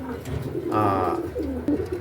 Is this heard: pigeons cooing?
yes